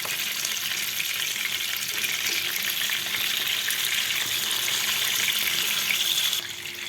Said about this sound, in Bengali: এবার আমি এটাকে খুব ভালোভাবে উল্টে পাল্টে ভেজে নেব